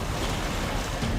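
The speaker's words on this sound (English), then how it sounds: "Giant waves pound Leaper as he fights his way toward the struggling swimmers" Large ocean waves crash and roar steadily in the surf at a beach with flash rip currents, a loud continuous wash with wind noise and no talking.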